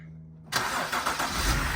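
A BMW E90 that has sat unused for two months cranks briefly, then its engine catches and settles into a steady, close, loud idle with slight surges.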